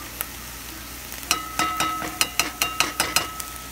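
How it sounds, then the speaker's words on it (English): Tomato paste sizzles in a hot pan while cooking fish and spaghetti, a steady frying hiss broken by a quick run of sharp crackles and pops, close and moderately loud. "All right, so I'm adding my tomato paste first."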